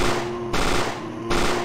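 Rapid bursts of gunshot sound effects from the fan-made game Resident Evil: Containment. Two loud automatic bursts are split by a short pause, each ringing with a steady tonal hum, and no one speaks.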